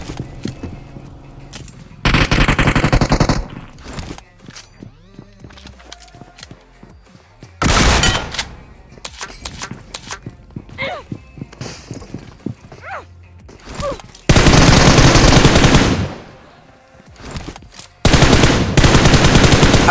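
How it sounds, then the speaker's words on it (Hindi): PUBG gunfire from an enemy tap-firing out of a squad house, heard as loud bursts of rapid shots with scattered single cracks and thuds in between, including long sustained volleys near the middle and end. "सामने साइड जो स्क्वाड हाउस होता ना वहां से एक बंदा टैप टैप फायर कर रहा था"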